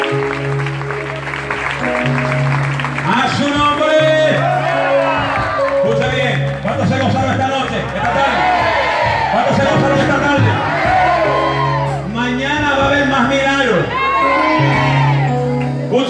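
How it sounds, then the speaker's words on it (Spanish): A church congregation at an evangelistic service in San Miguel, El Salvador breaks into loud, sustained applause with shouts and whoops over steady music, filling most of the passage. "Den ese aplauso fuerte al Señor."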